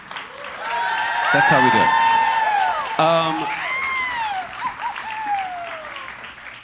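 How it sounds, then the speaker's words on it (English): An audience claps steadily while someone talks loudly over the applause. "another big round of applause"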